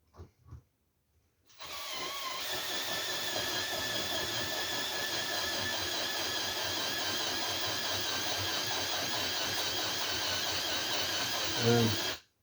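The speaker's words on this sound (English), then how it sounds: "pop the drill in." After a couple of brief knocks, an electric drill driving a tobacco shredder whirs steadily and loudly for about ten seconds, rising slightly before cutting off.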